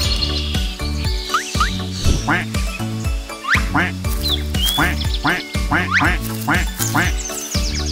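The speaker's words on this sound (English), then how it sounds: "Mommy duck said quack, quack, quack, quack" Cartoon duck quacks in an animated children's nursery song, a quick series of nasal calls repeated over a bouncy musical backing with sung vocals.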